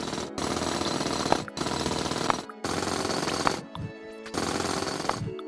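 A drill in the mining game Chipmatic bores through coal with a loud, steady rattling roar that comes in four long bursts, each broken by brief pauses.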